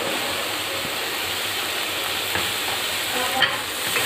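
Paneer goes into a pulao with carrots and peas cooking in a pot, a soft steady sizzle with a few light stirring scrapes, fairly quiet throughout.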